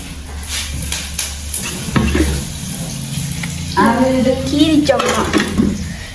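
Tomatoes sautéing in a pan for a home-cooked Jaffna lunch, with steady stirring and sizzling near the mic, occasional scraping clinks, and a voice talking over the cooking in the second half.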